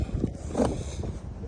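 Strong wind gusts outdoors in Cambridge, Maryland, buffeting the microphone with a rough, continuous low rumble that swells briefly in the middle, with no voices.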